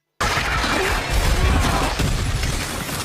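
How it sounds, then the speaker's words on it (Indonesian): A loud, sustained blast stopping an electric bus, with crashing, rumbling debris that swells and stays dense for a few seconds after a sudden start. "Meledak, menghentikan bus listrik."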